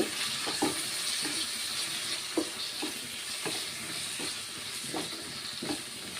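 Tomato pieces fry in a pan with a soft, steady sizzle and hiss, broken by regular stirring scrapes about once a second, with nobody speaking.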